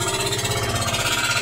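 A fishing boat's engine throttled down to run slowly at sea, a loud, steady low throbbing with an even, continuous pulse and no voices.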